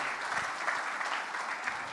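A crowd at a film pre-release event applauds steadily, a dense, continuous clatter of many hands heard from the room at moderate volume, with no one speaking over it.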